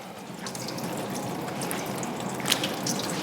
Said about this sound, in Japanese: カツオをきれいに洗う。